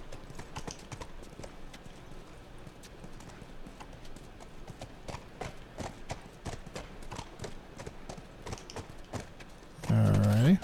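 Horse hooves clop in The Last of Us as the horse walks in a steady, moderately close rhythm of sharp taps, and a voice speaks briefly near the end.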